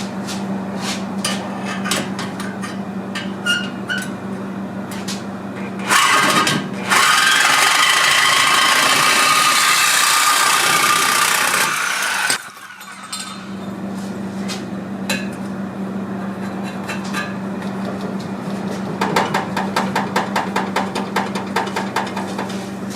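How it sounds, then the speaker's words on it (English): A Sawzall reciprocating saw cuts off the exhaust pipe on a Toyota 22RE during a muffler replacement, a loud, harsh buzzing burst lasting about six seconds between quieter stretches of tapping and shop noise. "now what I'm going to do is get my Sawzall, and I'm going to cut that off probably right around there somewhere"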